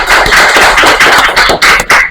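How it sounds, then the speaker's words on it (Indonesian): Loud, dense applause from a school audience at an anti-drug event, sustained clapping with many overlapping hands close by, no voices over it. "Boleh kasih tepuk tangan dulu."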